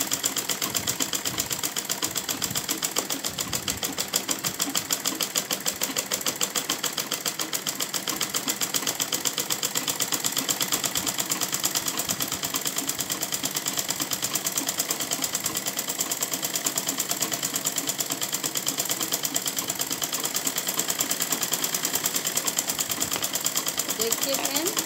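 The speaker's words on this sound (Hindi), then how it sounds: "मैं अभी स्टिचिंग शुरू कर रही हूँ और 2 कली को जोड़ रही हूँ।" A sewing machine runs steadily for the whole stretch, stitching two panels of a petticoat together with a continuous whirring, rattling hum. Someone talks over it throughout.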